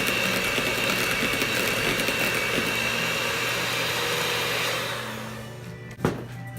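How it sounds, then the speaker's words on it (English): A kitchen blender runs on low speed with a steady, loud whirring drone while dessert batter is mixed, then the motor winds down and a brief clunk follows near the end. "Now I got my blender on low"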